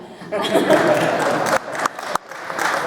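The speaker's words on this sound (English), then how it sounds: "go ahead and clap" Audience applause at a monster convention panel, a burst of clapping that rises quickly, wavers and breaks off in short gaps before resuming.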